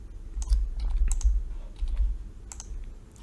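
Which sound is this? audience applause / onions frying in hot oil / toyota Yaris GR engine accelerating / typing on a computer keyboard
typing on a computer keyboard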